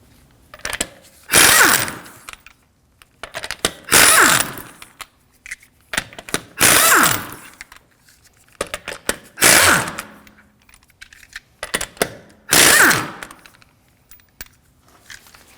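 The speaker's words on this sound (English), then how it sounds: "To remove the wheels, we're going to be using a 19mm socket." A ratchet with a 19mm socket loosening the wheel lug nuts on a 2013-2015 Subaru XV Crosstrek, five loud bursts of rapid clicking spaced a few seconds apart, with quiet handling noises in between.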